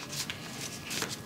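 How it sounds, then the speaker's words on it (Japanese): An oracle card is drawn from a deck, a brief soft papery shuffle and slide of cards, close and quiet, ending in a small snap as the card comes free. "最後にね、もう一枚ちょっとオラクルカードを引いてみたいと思います。"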